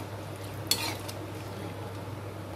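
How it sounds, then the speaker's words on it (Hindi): Boiled chickpeas for chana masala stirred in a kadhai, a single clear scrape-and-clatter of the spoon against the pan over a steady low simmering hum, then quiet bubbling. "हिला लेते हैं।"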